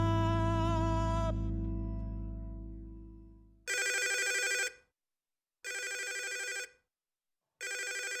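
A telephone rings in a video game: one long ringing tone, then three short separate bursts of ringing with silent gaps between them, close and clear, with no talk.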